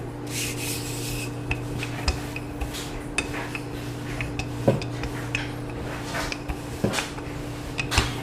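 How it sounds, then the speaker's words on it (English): A rolling pin rubs and scrapes over panzerotti dough on a counter, a continuous close rasp with occasional light knocks and clicks. "And here we are rolling it out."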